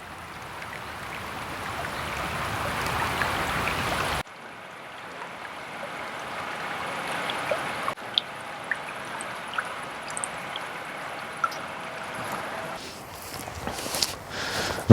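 Continuous broadband rush of a river flowing along the edge of an alluvial forest, steady and fairly close, with a quieter stretch midway and a few faint clicks and chirps over the water.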